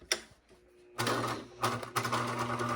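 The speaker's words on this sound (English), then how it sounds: "all I'm going to do is just a regular straight stitch with back stitching along this line" A sewing machine runs a straight stitch with backstitching on a fabric bag pocket, its motor whirring in close, steady bursts with brief pauses and changes in speed.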